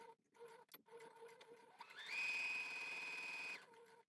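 A sewing machine stitches forwards and back to secure a seam while a garment is taken in, starting with faint handling clicks, then a short steady whirring run close to the microphone.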